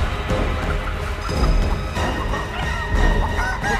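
A giant chicken in the horror video game Chicken Feet lets out loud, harsh honking squawks in repeated bursts over a constant game backdrop.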